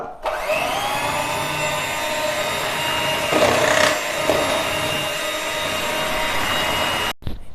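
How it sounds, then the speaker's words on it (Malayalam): An electric hand mixer beats one cup of whipping cream in a bowl for tender coconut ice cream, a steady close whirring drone with a brief change in pitch midway before cutting off near the end. "വിപ്പിംഗ് ക്രീം നന്നായിട്ടൊന്ന് ബീറ്റ് ചെയ്തെടുക്കാം."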